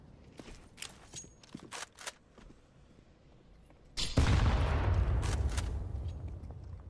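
A grenade blast in a competitive video game shooter match, a sudden loud burst about four seconds in that rolls into a sustained rumbling tail, following several short sharp gunshot-like cracks.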